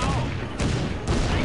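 Mortar fire in the Blitzkrieg 2 war game, heavy booming bursts repeating roughly every half second in a dense, loud fusillade with no clear gaps.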